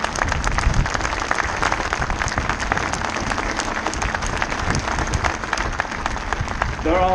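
Sustained applause from a large crowd of bikers at the Royal Tournament/Ride to the Wall 2022 gathering, dense steady clapping throughout with some voices mixed in.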